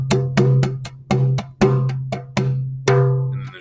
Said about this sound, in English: If you play in the middle, the bass hit sounds like this.